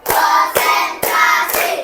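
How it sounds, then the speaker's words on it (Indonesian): Hands clap in a class morning routine, four sharp, evenly spaced claps close by and loud, in a counted rhythm. "Coba, tepuk satu, tepuk dua, tepuk tiga, tepuk empat"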